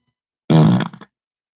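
Fart sound effect, a short loud buzzing burst about half a second long, sputtering out at the end, alone in silence.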